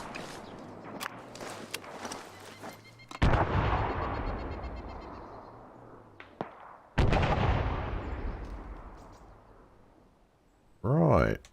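Gunfire in the military video game Arma 3, a few sharp sporadic shots followed by two loud booming reports with long echoing decays, fairly close, with a voice speaking intermittently.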